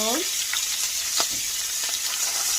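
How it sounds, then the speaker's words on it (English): A salmon fillet flips over in a hot frying pan with a soft thump, then the fish sizzles steadily and close, its crackle faint and even, with no one speaking. "now we are going to flip this salmon just like so"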